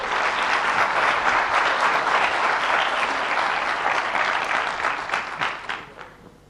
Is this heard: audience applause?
yes